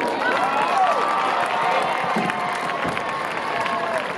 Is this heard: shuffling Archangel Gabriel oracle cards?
no